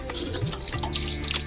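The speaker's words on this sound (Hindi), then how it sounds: "अब देखिए इसमें पानी निकलेगा" Water gushes steadily from a newly built hand pump at a home, a continuous splashing rush with a few rising gurgles, heard close and alone.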